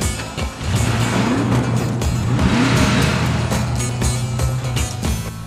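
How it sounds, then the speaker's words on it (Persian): A car engine revs continuously near and loud, rising and falling in pitch several times with a steady low drone throughout, no talk over it. "ماشین چیکار کردی؟ آوازش دیگه شد؟"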